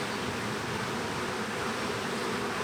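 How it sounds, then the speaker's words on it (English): Honey bees from a nucleus colony hum in a dense, steady buzz, close and continuous throughout with no voices. "you have to shake the bees off before you put it in the other hive"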